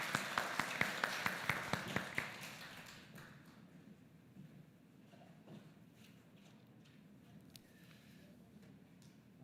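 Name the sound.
applause from church congregation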